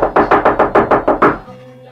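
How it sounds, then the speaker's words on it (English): Eight quick, loud knocks land on a wooden door in an even, rapid rhythm before fading to quiet. "and he banged on the door."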